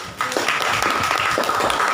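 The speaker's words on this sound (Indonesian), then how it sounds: "Ya, bagus sekali, tepuk tangan dulu." A physics class in Indonesia gives a short round of brisk clapping. It is close, dense and continuous, with no talk over it.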